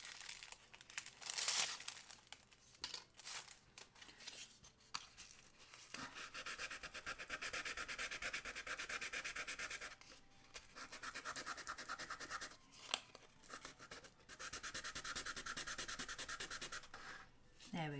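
Coarse sandpaper rubs in long rasping, scratchy strokes over thick paint on a small model house front, steady and close with short pauses between passes.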